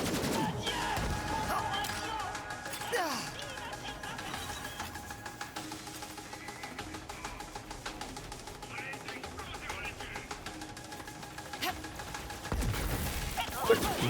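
Rapid gunfire bursts from the shooter game Borderlands 3 crackle in repeated volleys at moderate level, mixed with game sound effects, while someone talks over the action.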